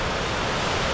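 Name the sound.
sea waves on Panglaw Beach, Hernani, Samar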